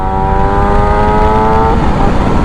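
A 2017–2021 Yamaha YZF R6 Raven engine held near half throttle gives a loud, steady high-pitched drone that eases slightly toward the end.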